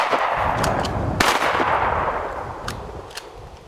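A single sharp gunshot cracks out close by during an outdoor rabbit hunt, followed by a few fainter knocks and rustles against a steady background hiss.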